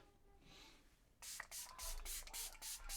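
Quiet room, then a series of short hissing bursts of makeup setting spray, about six in quick succession, close to the listener.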